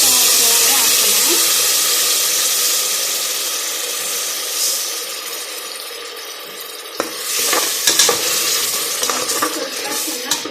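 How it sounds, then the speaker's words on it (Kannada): Ground masala stirred into onion and tomato for drumstick sambar, sizzling and hissing steadily in a hot pan, with scraping spoon strokes and a few sharper clinks growing busier toward the end. "ಸ್ವಲ್ಪ ಚೆನ್ನಾಗಿ ತಿರುಗ್ಕೊಳ್ಳೋಣ, ಇಲ್ಲಾಂದರೆ ಹಂಗೆ ತಳ ಹಿಡಿದ್ಬಿಡುತ್ತೆ."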